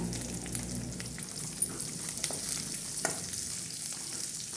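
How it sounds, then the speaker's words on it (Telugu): Chickpeas and onions fry in a pan, a soft, steady close sizzle with occasional small pops and light stirring clicks, fairly quiet and without any talking. "మంచిగా కొంచెం ఎర్రగా వేగనివ్వాలి"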